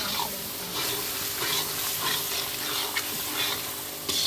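Chicken pieces fry in oil with turmeric for a coal-cooked chicken curry, giving a steady broadband sizzle and hiss with occasional stirring scrapes, close and continuous throughout.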